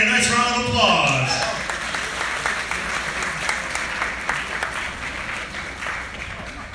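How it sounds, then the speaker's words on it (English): An audience at a live band concert in Carteret, New Jersey gives dancers a sustained round of applause. A voice is heard briefly at the start, then steady, full clapping fades slightly. "A nice round of applause!"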